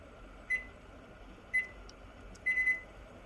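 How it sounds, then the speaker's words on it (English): A kitchen timer being set beeps softly nearby while a pecan pie bark boils, with single short beeps about a second apart, then a quick double beep, over a low room hum. "And just quickly put my kitchen timer on."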